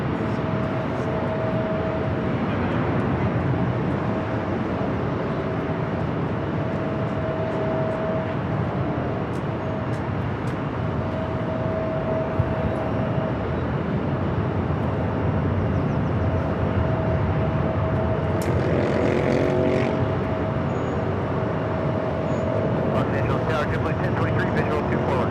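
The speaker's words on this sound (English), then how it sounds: "A350-900 flight coming in from Paris Orly arriving on the south side." An Airbus A350-900 airliner arriving from Paris Orly onto the south side of LAX makes a steady, moderately distant jet roar with a thin whining tone. It holds evenly throughout, with faint background activity.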